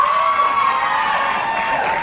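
A graduation audience for the class of 2014 cheers and shouts with steady applause underneath, a dense, continuous crowd roar of voices and clapping filling the hall without a break.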